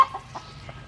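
Chickens cluck in short, soft bursts at a farmyard while being fed seeds, a few calls spaced through under a low rumble of background noise.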